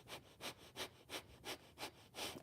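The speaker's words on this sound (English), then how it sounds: "fast bastrika, a medium-paced bastrika." Fast bhastrika yoga breathing, a series of seven sharp, rhythmic nasal breaths in steady succession at about three per second, close and fairly quiet, with no talking.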